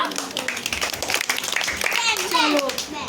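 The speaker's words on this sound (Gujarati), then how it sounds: "ચલો તાળી પાડો" Children clapping together in a classroom, a burst of uneven close handclaps mixed with young voices chattering over them.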